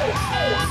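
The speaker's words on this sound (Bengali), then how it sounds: "এমন সাইরেন বাজিয়ে যাচ্ছ কেন ভাইয়া?" A vehicle siren like an ambulance's wails loudly and steadily in a smooth rising and falling sweep, with no voices over it.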